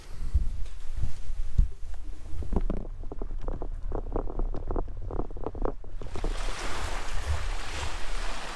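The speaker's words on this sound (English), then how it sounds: "Super breezy out." Strong wind blows outdoors in a steady, loud rush with gusting surges, buffeting a microphone close up, with no talking.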